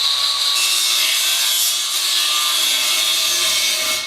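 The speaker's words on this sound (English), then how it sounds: "I went through about one disc on each side, just cutting the round tube here." An abrasive cutoff wheel grinds through steel round tube for a custom front bumper on a Ford E-350 van, a loud continuous high-pitched screech that holds steady throughout, then stops abruptly at the end.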